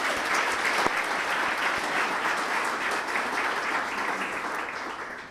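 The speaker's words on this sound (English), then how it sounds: "How about a round of applause for them?" A crowd at a mayoral state-of-the-city address applauds military veterans, a full, even roar of clapping that holds steady and tapers slightly toward the end.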